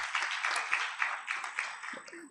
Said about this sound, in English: Can I request that we also give ourselves a big round of applause,